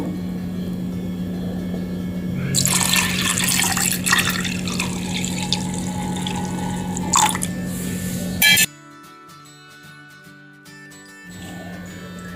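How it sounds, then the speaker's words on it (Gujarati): Milk pours into a blended fennel sherbet mixture, a steady liquid rush over a constant hum, ending abruptly and leaving near silence before the hum returns. "હવે આપણે એની અંદર દૂધ એડ કરીશું."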